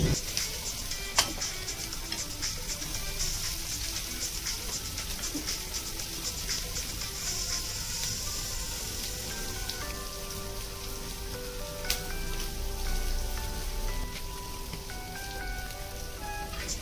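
Mandeli fish crisping in oil in a flat pan, a steady close sizzle and spatter that runs without pause, with a couple of sharper pops and faint background music underneath.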